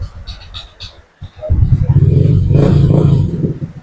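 A Honda ADV150 scooter with a hard-starting, overheating problem cranks with a short stuttering clatter, then catches and settles into a loud, rough idle rumble nearby, with rain audible in the background.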